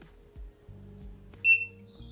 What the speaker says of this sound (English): it will beep and all three lights will flash